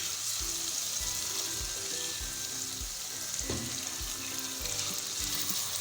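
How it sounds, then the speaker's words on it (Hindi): A hundred grams of beef pieces fry in a pan for a beetroot gosht curry, giving a constant bright sizzle with soft, regular scrapes of stirring underneath. "कुछ सेकंड हो गए हैं गोश्त को फ्राई करते"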